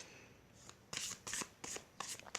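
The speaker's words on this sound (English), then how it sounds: "It is the most comfortable deck to shuffle for me." Tarot cards being shuffled in a series of crisp riffling bursts, about five quick flurries with short pauses, close and fairly quiet.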